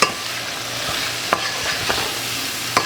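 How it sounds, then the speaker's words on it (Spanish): Chopped chicken stirred in a hot pan, a steady sizzle of frying under a few scraping knocks of the spoon against the pan, close and with no talking. "Y le voy a poner el pollo picado. Lo mezclamos bien."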